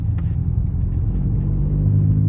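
A car engine at a driving lesson picks up revs in second gear after a downshift from third, a loud steady low rumble that slowly swells toward the end.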